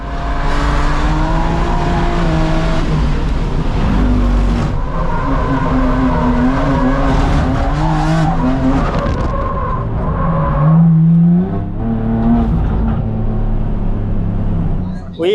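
A 740 HP BMW G87 race car laps Circuit of the Americas, its engine loud and close as it revs up and down through gears, with brief tire squeals in the corners while the driver talks throughout.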